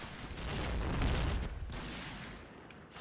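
Gunfire in a video game on a new Grand Bazaar map, heard as a quick burst of several shots followed by fading echoes, fairly quiet overall.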